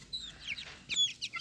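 Young black chicks peeping and clucking in short, high, close calls, a few quick bursts in a quiet space with no voices.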